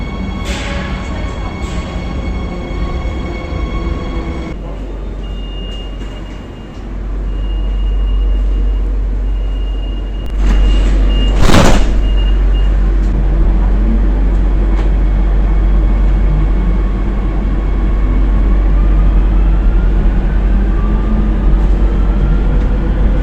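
A Madrid metro train on a very short two-stop shuttle line rumbles loudly and continuously from close by, with a low roar that swells midway, a sharp squeal or clank near the middle, and faint whines carried through the ride.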